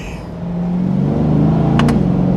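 A C8 Corvette's dual-clutch transmission shifts quickly in manual mode, the engine drone climbing, then briefly cutting and dropping in pitch at the shift, loud and close.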